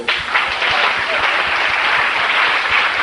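A church congregation bursts into loud, sustained applause with rhythmic clapping and mixed crowd voices acclaiming, filling the hall for a few seconds.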